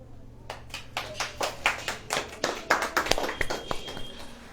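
A church congregation claps during a sermon at a Christian gathering. The claps are sharp and irregular and come from many hands, fairly close, swelling and thinning over several seconds with no speech over them.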